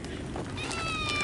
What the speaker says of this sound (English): this cat is so happy to see us